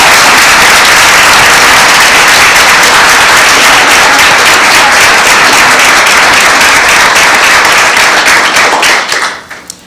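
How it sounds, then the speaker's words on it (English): A school board meeting audience gives a loud, dense round of applause, many hands clapping at once in a sustained roar close by that holds for about nine seconds before quickly dying away. "I would like to give a round of applause for Mr."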